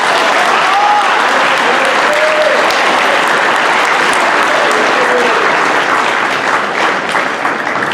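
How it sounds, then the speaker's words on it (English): Audience at a high school student recognition assembly breaks into loud, continuous applause, a thick, even roar of many hands clapping with faint voices mixed in. "So give them a round of applause."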